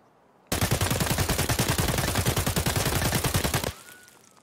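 A modded AK-74N fired on full auto in Escape From Tarkov, a fast steady burst of loud close shots lasting about three seconds and then cut off, with a faint tail afterward.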